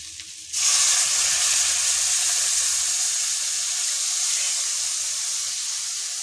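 Coconut milk poured into a hot pan of ambarella and egg curry sets off a sudden loud sizzle that settles into a steady, close hiss of steam and frying.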